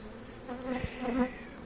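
Steady buzzing of honeybees, a low continuous drone with a few louder passes close by, no talking.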